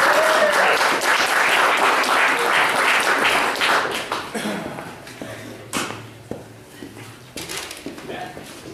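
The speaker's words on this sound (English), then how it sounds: "Let's give a big round of applause for Damian Carpenter." Loud audience applause and clapping at a poetry night that swells at first, then thins out and fades into scattered claps and room noise.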